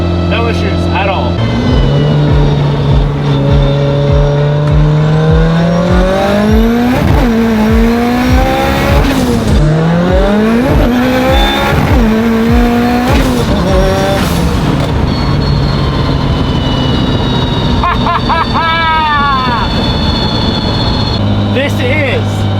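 A Mitsubishi Evo fitted with a sequential transmission accelerates hard, its engine climbing through rapid successive upshifts with rising and falling revs, loud and close throughout, with occasional talk over the engine.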